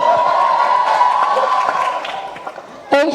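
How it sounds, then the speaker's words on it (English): An event audience claps and cheers for performers at a live launch show, a dense roar of applause and whoops that fades toward the end before a voice cuts in; talking runs over the crowd. "a huge round of applause for Couples Brothers"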